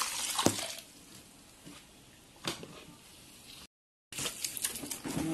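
Bitter leaf is washed by hand in a bowl of water, with soft sloshing and squeezing splashes coming in short bursts and quiet gaps, a brief silent break near the end.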